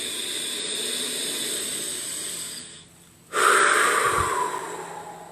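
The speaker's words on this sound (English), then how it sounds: "We're going to inhale in the nose, exhale out the mouth, first breathing into the belly, then the chest, and then into the head in one giant breath wave." A long breath drawn in through the nose, then a short pause and a forceful exhale out through the mouth, close and airy, in a slow wave-like breathing exercise with no talking.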